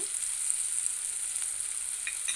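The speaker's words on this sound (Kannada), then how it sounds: "ಖಾರದ ಪುಡಿ ಹಾಕೊಂಡು ನಾವು ಚೆನ್ನಾಗಿ ಒಂದು ಒಳ್ಳೆ ಮಿಕ್ಸ್ ಮಾಡೋಣ" Onions and garlic with chilli powder are stirred in a hot pan for a drumstick palya. They give off a steady, close sizzle with soft scraping near the end, and no one speaks.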